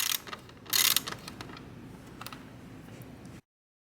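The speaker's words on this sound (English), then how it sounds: "I love the ratchet sound." A ratchet wrench tightens a bolt with a close, rapid burst of clicking, first loud and dense, then lighter, evenly paced clicks trailing off before silence.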